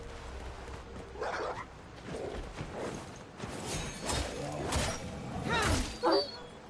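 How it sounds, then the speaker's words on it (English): Several dogs in the video game Wuchang: Fallen Feathers bark and yelp in short, irregular bursts at close range over a dense, noisy game soundscape, with the loudest outbursts near the end. "Oh, crap. Dogs."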